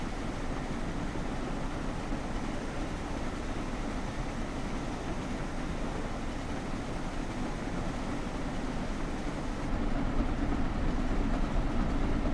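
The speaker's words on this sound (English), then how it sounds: "might be overtaking another passenger train" Passenger train in a train simulator game on a route from New York Penn Station to Trenton, a steady broadband rumble of rolling wheels and track noise that continues evenly throughout and grows slightly louder toward the end.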